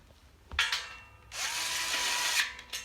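A power tool tightens a bolt during workbench assembly: a short whirring burst, a pause, then a longer close drill run ending in a ratcheting click, with no talk.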